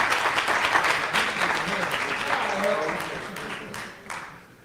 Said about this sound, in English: Let's give Mr. Otis Mack a round of applause.